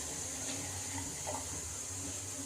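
Ragi flour mixture poured into a pot of boiling water, a steady, soft watery rush that runs continuously with no voices.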